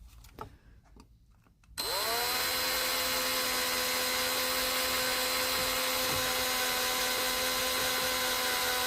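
A small drill spins up abruptly and keeps a steady high whine, boring holes in the circuit board of a Marshall JMP 50 MK2 Master Volume amplifier under repair; quiet, uneven handling noises come before it starts.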